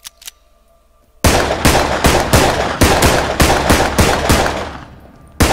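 A rifle in Contagion VR fires a rapid string of close, loud gunshots at a zombie, about a dozen sharp cracks in quick succession after a short near-silent pause.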